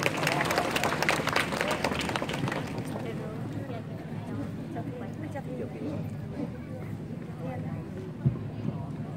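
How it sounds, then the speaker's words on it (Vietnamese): Crowd applause welcoming a bishop at an evening Catholic youth celebration, dense and steady at first, then thinning into a softer murmur of claps and voices. "Xin một tràng vỗ tay để chào đón Đức cha Phêrô."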